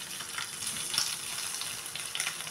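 Beef strips fry gently in a pan over low heat, giving a soft, continuous sizzle and light crackle at a low, even level. No one speaks.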